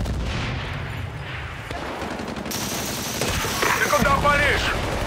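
Battlefield: Bad Company multiplayer gunfire, with bursts of rapid shots and heavier booms rolling through a noisy battle mix as voices call out under the fighting.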